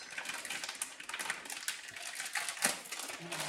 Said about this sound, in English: I'll get it out of the packaging